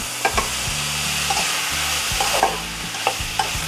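Paneer pieces are stirred and fried in a pan, a steady sizzle broken by repeated scraping strokes of a spoon against the metal, close and with no talk.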